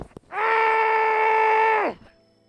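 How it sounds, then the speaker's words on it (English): A single sustained scream into a pillow, muffled yet strong, holds steady for about a second and a half before dropping off abruptly, alone against near silence. "I had to scream again into a pillow"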